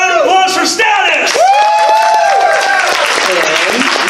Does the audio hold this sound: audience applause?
yes